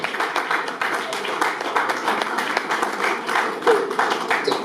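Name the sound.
audience clapping for the national president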